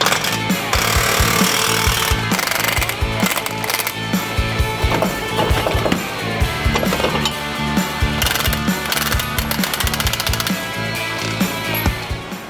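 Impact wrench or power tool loosening the U-bolt nuts on the rear leaf-spring suspension of a third-generation Toyota Tacoma, a loud, close, continuous mechanical rattling and hammering with repeated bursts throughout.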